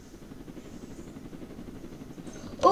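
Helicopter in the Roblox game Jailbreak, a steady rotor drone humming at moderate level throughout, with a brief louder burst at the very end.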